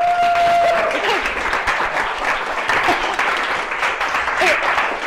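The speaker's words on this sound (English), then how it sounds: "can we give him a round of applause again?" A conference audience at a developer public-relations talk gives a sustained round of applause, dense even clapping filling the whole clip without speech, with a faint tone at the start.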